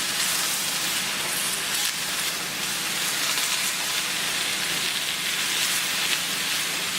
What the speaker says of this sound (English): Get those sauteing on medium heat.